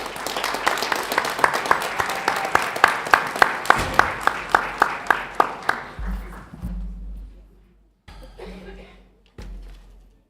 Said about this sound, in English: Let's give Tracy a round of applause, please.